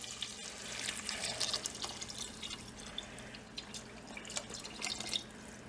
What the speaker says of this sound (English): And I'll probably add water as well.